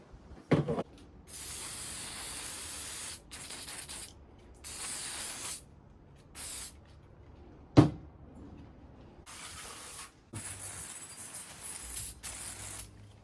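Degreaser hisses from a spray can onto gravel bicycle parts in a series of separate bursts with short gaps between them. One sharp knock lands midway, and no one speaks.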